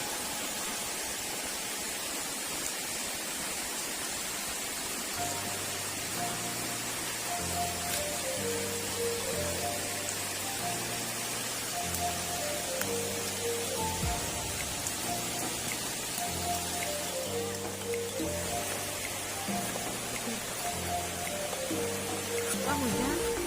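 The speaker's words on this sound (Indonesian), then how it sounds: "Ah, hujan." Steady rain falls outdoors beside a river, a dense continuous hiss that runs unbroken throughout, with a repeating melodic music track layered over it.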